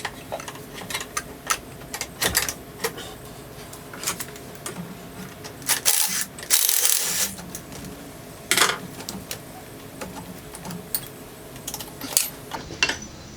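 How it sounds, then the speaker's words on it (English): A small pry bar works a long alternator bolt out of its mount on a Nissan 300ZX engine, giving scattered close metallic clicks, scrapes and knocks with a brief louder clatter, no talking. "I'm just taking a simple small pry bar, and all you gotta do is just pry it, the bolt out of its home"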